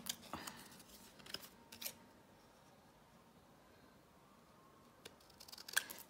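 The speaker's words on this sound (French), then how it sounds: "Maintenant, pour pouvoir l'insérer, on va venir découper en biseau." Scissors snip a paper bookmark shape at a bevel, a few faint, sparse cuts with quiet pauses between them.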